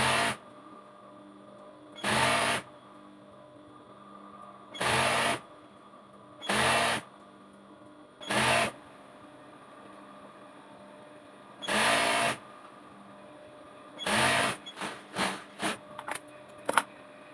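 A sewing machine stitches two strips of fabric together in short bursts, each run lasting about a second with pauses between, ending in a quick series of brief stitches; close and clear.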